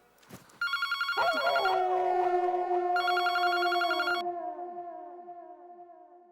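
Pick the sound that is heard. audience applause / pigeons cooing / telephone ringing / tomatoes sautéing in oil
telephone ringing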